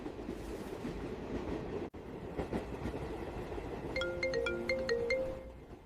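Steady rumble and rattle of a moving train carriage, a continuous loud ride sound with a brief drop near two seconds and a ringtone-like electronic melody chiming in the final two seconds.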